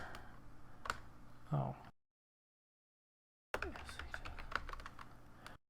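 Keys clatter on a computer keyboard as a command is typed into the Space Quest II adventure game, a few quick close taps in two bursts separated by silence, with a brief spoken exclamation.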